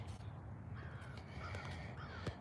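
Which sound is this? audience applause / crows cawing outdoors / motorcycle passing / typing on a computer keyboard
crows cawing outdoors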